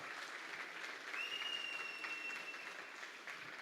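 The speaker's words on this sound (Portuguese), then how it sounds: "eu quero chamar também uma salva de palmas" Steady applause from a conference audience, sustained clapping at moderate distance with a brief high whistle-like tone over it.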